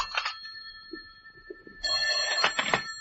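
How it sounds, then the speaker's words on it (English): An old-time telephone bell rings in a bright, buzzing burst in a quiet apartment in the morning, starting partway through after a short earlier ring, fairly close and clear with no talking. "the phone interrupted my first cup of coffee the next morning at 10:30"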